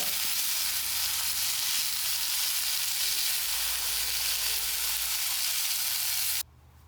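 Chopped cabbage sizzles and fries loudly in a pan as it is stirred for a Kerala-style thoran, a steady close crackle that cuts off abruptly near the end.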